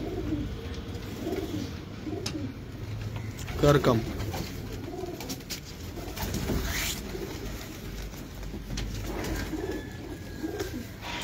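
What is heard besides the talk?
high flyer Aseel pigeons cooing in Lahore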